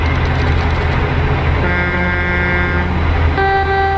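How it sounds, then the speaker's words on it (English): Truck horns sounding, a loud sustained honk that changes pitch partway through as a second horn joins, over a steady engine rumble. "Oh, I forgot to check the horn."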